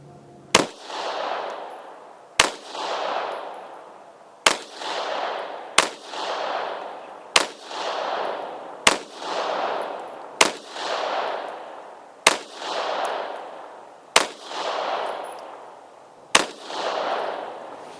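Pistol test-fired with Murom Russian primers: ten sharp, loud single shots spaced roughly two seconds apart, each followed by a short echoing decay, with no talking.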